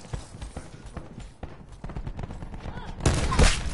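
Weapon gunfire in a video game: a rapid clatter of shots, then a louder, denser burst near the end, close and sharp.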